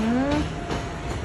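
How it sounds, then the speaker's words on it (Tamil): A train passes near a railway station, heard from a nearby rooftop terrace: a brief rising horn-like tone at the start, then a steady, moderately loud rolling rumble with no talk. "அழகாக ட்ரெயின் போகுது."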